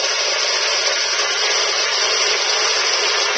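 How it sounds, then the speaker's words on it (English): A stand mixer whirs at high speed, beating ingredients for a breakfast strata until light and fluffy, a steady loud hiss-like motor drone with no talk. "This one here is a stand mixer."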